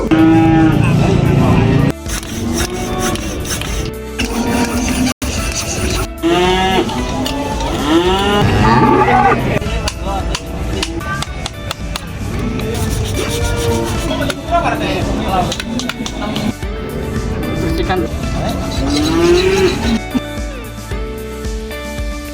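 Cattle moo repeatedly, some calls long and drawn out, mixed with people talking and clattering noises nearby.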